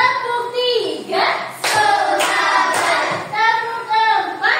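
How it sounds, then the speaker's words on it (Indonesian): Hand claps ring out in a classroom clapping game, sharp claps landing among children's chanting voices, sometimes singly and sometimes in quick bursts, close and loud. "Tepuk satu, tepuk dua, tepuk tiga,"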